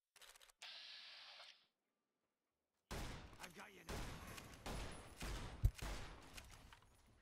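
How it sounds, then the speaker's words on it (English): Laser pistol fire in the game Fallout New Vegas: a thin electronic whine, a pause, then a run of loud, bright, crackling zaps and bursts close up. "Laser pistol."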